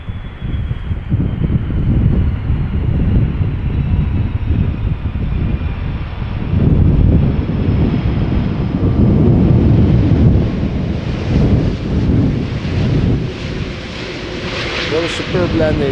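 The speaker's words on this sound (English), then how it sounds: "This is Delta Airlines Flight 74, arriving from Atlanta, Georgia. It's an A330-300 and it is 8 years old." Delta Air Lines Airbus A330-300, eight years old, landing at Schiphol Airport in a gusty crosswind: a loud, continuous jet engine roar with rumbling swells that rise and fall throughout, rather close, with no talk over it.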